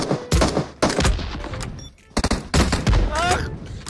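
Bursts of rapid gunfire in PUBG Mobile crackle in loud clusters, broken by short pauses, with a voice speaking intermittently between the shots.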